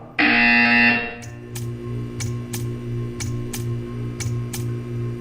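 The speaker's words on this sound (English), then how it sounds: "You will hear a buzzer. When you hear the buzzer, stare at the art." A game buzzer from Portal 2 gives one loud, steady electronic tone lasting about a second. A string of short, evenly spaced ticks follows over a low ambient hum, and nobody speaks.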